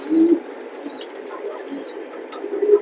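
A pigeon at a pigeon loft gives soft, low cooing calls, close by and fairly quiet, a few murmured coos spread across a few seconds with light background noise and faint chirps.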